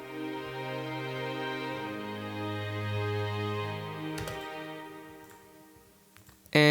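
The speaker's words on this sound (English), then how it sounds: "Then we have the strings." A sustained strings track from a future bass mix plays alone, with long held chords that swell and slowly fade over several seconds before a sudden cutoff.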